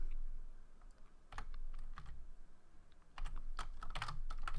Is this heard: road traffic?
no